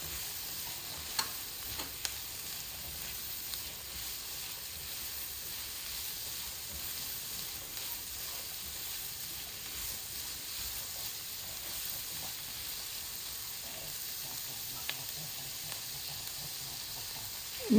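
Green bell pepper is stirred and fried in a pan of vegetables for a moong bean pulao, producing a continuous gentle sizzle with occasional scraping taps of the spoon.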